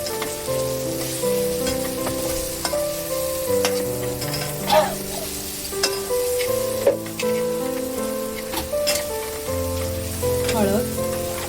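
Cumin powder, asafoetida and other spices sizzle steadily in hot oil while tempering rice, a close, continuous frying crackle broken by a few sharper pops and stirring clinks, with no talk.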